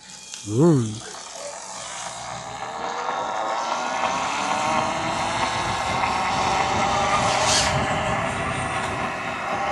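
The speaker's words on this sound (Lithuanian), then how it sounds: "Dronas antai skrenda." A steady, whining motor drone hums throughout, like a small drone flying nearby, after a brief rising chirp at the start.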